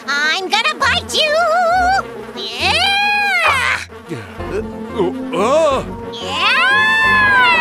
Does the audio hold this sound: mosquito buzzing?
yes